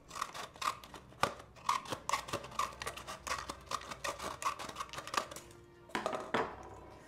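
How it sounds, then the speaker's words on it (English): Scissors snip through a spare plastic cup to cut a thin band for a bell wreath ring, a steady run of sharp, close cuts spaced through the whole stretch with no talking. "I just take a spare cup and I cut a piece about this thickness."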